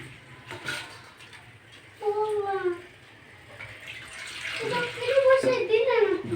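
Water poured into curry simmering in a pan, a steady splashing pour that swells mid-clip, with a voice talking briefly over it.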